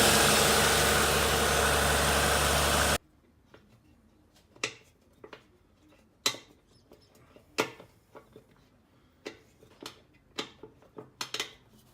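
A 1960 Ford XK engine with a leaking Holley carburetor idles loudly and steadily for about three seconds, then shuts off, leaving a series of sharp metallic ticks and clicks in near silence.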